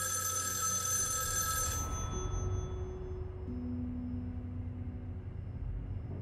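A telephone rings inside the video game Erica, a loud repeating bell for the first couple of seconds, then quiet game ambience with low sustained tones, no talking.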